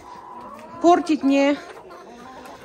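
A broody hen and other chickens on a farm, a few short close clucks and a drawn-out cackle, with a person speaking over them.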